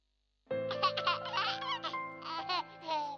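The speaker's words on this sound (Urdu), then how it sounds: "یہ ہے میرے بچے کی آواز جب اس کا پیٹ بھرا ہو" A contented baby after feeding giggles and coos in bright, bubbly bursts, close and clear with short pauses between.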